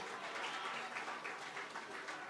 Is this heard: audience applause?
yes